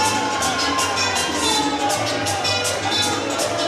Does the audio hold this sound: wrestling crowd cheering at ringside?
yes